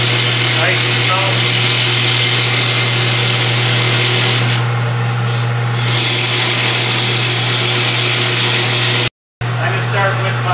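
A wood lathe spins steadily while a detail gouge cuts away material to shape a bow, a loud continuous rubbing, scraping drone with a steady low hum, briefly cut off near the end before resuming.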